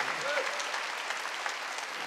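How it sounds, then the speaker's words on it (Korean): Congregation clapping during a church worship service, a steady dense patter of hands that holds at an even level throughout with no voices over it. "박수야."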